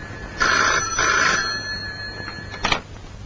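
A telephone rings in two clear bursts followed by a shorter third ring, fairly loud and close, with no talk over it.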